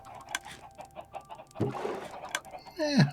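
Chickens clucking in the video game Mana & Brass, a run of short close clucks and squawks in irregular rhythm, rising toward a louder call at the end, with faint game ambience underneath.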